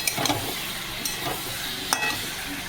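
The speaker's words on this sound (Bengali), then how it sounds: "এবার আমি চিকেন দিয়ে দিচ্ছি। চিকেন দিয়ে এখন কষাবো।" Chicken pieces stir-fried and sautéed in a pan for a home chicken curry, with steady sizzling and a few sharp scraping stirs of a spatula close by, no voices.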